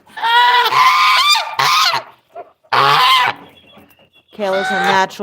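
Loud, nasal goose honks close by, in three long noisy bursts separated by short quiet gaps, with a few softer calls in between.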